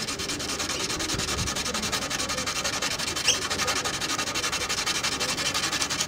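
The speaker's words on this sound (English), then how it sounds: "sanding down the globs of glue as well. What we don't want to do is sand through them." Sandpaper working varnish and glue globs off a violin's wooden body, a loud, close, continuous scratchy rubbing that holds steady throughout without pauses or speech.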